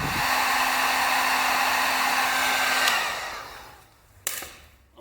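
A heat gun blows a steady, loud airflow onto a bolt head during a mirror install on a 2017 Kawasaki Z650, then winds down after about three seconds, followed by a brief click and some faint handling noise.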